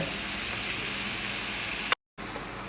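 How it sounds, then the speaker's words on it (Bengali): Singhi fish roe sautéing with chili in a pan gives a steady, close sizzle and hiss that runs unbroken, with a sudden short dropout of silence before the frying noise resumes. "তো এখন এগুলো কষিয়ে নিচ্ছে মা, একটু মরিচ দিয়ে দিল।"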